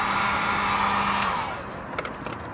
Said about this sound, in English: Then heat gun it a little bit.